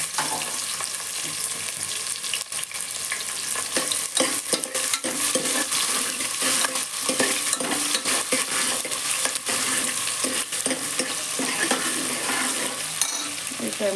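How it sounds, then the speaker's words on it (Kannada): Green chillies and onion sizzle and fry in a pan while being stirred, a steady, dense crackling hiss that stays loud and unbroken for the full length, with scraping stirs mixed in. "ಹಸಿಮೆಣಸಿನ್ಕಾಯಿ ಹಾಕ್ತಾಯಿದ್ದೀನಿ ಇವಾಗ. ಹಾಗೆ ಈರುಳ್ಳಿ ಇಷ್ಟನ್ನು ಹಾಕ್ಬಿಟ್ಟು ಮಿಕ್ಸ್ ಮಾಡ್ಕೊಳ್ಳೋಣ"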